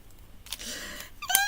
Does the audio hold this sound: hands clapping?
no